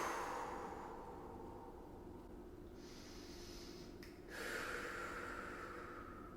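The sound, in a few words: deep breathing during a stretching exercise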